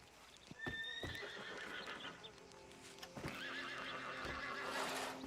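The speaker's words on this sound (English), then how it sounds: "There's a horse like freaking out over there." Panicked horse in the video game Red Dead Redemption 2, whinnying shrilly twice amid restless hoof clops and snorts, close and clear with no talk.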